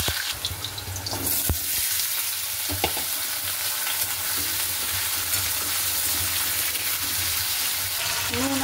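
Steady loud sizzling of frying in hot oil in a wok with salt and turmeric, with occasional stirring scrapes and clinks, continuous throughout and without speech.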